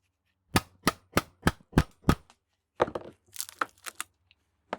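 A hammer drives a steel chisel against the steel of a scrap transformer: six sharp, evenly spaced metallic blows, then a looser cluster of lighter knocks and scrapes, close and clear with no talking.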